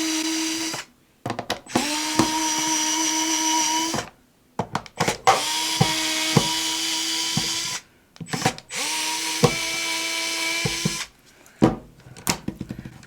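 A small powered screwdriver backs screws out of a 50 amp RV surge protector in several whirring bursts of a few seconds each, separated by pauses and clicks, close and clear with no talking.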